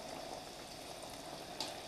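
Anchovies deep-frying in hot oil, a faint, steady bubbling sizzle throughout with one brief pop near the end and no voices.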